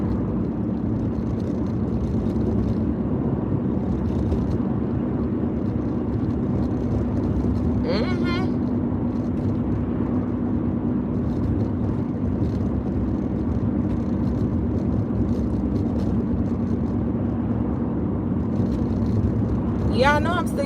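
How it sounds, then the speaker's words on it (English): Steady low road rumble from inside a Toyota car on the move, constant and moderately loud throughout, with brief chirps near the middle and end and someone talking over the drone. "I'm driving the Toyota right now"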